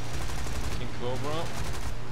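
Rapid aircraft machine gun fire in War Thunder rattles continuously over a steady engine drone, with a voice briefly talking partway through.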